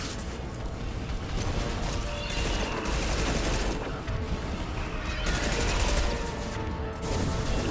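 Sustained rapid submachine gun fire in Mass Effect 2, dense continuous bursts with clattering impacts and action noise throughout, loud and close.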